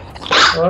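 A single sharp human sneeze bursts out suddenly and loudly mid-clip indoors, following a brief quiet murmur, then fading into a soft voiced tail.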